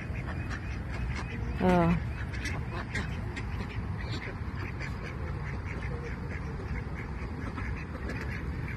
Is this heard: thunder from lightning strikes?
no